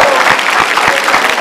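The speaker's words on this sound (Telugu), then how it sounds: "గట్టిగా క్లాప్స్" A studio audience on a Telugu TV game show claps loudly in a dense, continuous burst of applause that lasts briefly.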